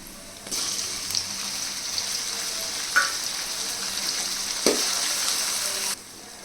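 Tomatoes added to a pan of sautéed onions for a South Indian garlic kuzhambu sizzle steadily at a moderate level, with a couple of faint clinks of stirring.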